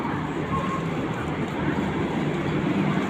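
The fully air-conditioned Vande Bharat Express bound for Bangalore stands at Erode railway junction, giving a steady, loud broadband rumble and rush with no breaks.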